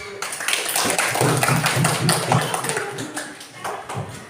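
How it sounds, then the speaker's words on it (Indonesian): A classroom group of children gives a round of hand clapping, a quick patter of many claps at moderate loudness that tapers off toward the end. "Oke, kita berikan tepuk tangan"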